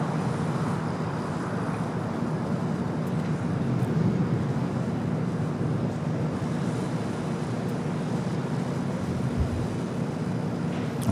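A United airliner on final approach to runway 25 left at LAX, heard as a steady, sustained jet engine roar with low rumble and wind buffeting throughout, no talk over it.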